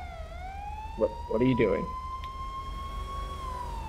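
A police car siren wails as a steady, slowly rising tone running through the whole stretch at moderate level, while voices briefly talk over it partway through.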